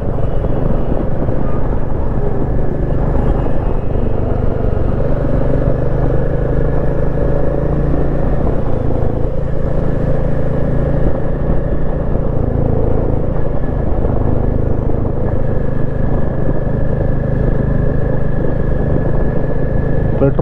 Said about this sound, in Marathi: मित्रांनो ही कंटिन्युअसली ना ट्रॅफिक चालूच आहे